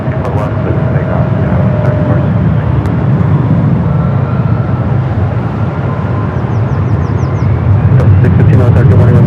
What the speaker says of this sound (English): E-Jets rolling down the 24 left